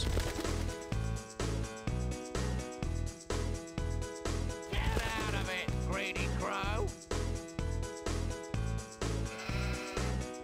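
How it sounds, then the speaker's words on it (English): Sheep bleat in the Bob the Builder: Festival of Fun Wii game, several wavering bleats rising over loud, steadily thumping upbeat game music in the middle of the stretch. "Slapping the sheep."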